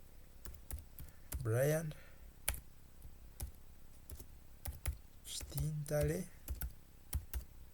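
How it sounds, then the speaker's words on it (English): Keystrokes on a computer keyboard while entering names in Microsoft Word, heard as scattered sharp clicks spread through the clip, with someone talking over parts of it. "I will type here"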